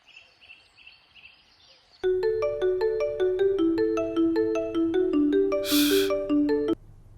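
A phone ringback melody of repeated electronic tones plays steadily for several seconds, preceded by faint background sounds and briefly overlapped by a short noise burst.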